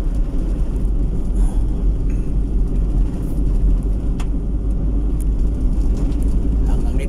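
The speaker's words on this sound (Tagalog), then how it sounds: "mga truck sa tubo talaga malagi natin madadaanan dito" Heavy trucks hauling sugarcane rumble along a provincial road in Negros Occidental, a continuous low engine drone and road noise passing close by, with no talk.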